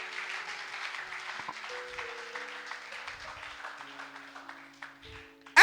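Steady applause from a church meeting congregation, sustained clapping held at an even level alongside droning held tones, with a sudden loud burst at the very end.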